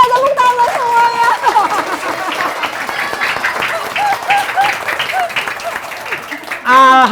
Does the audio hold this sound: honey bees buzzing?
no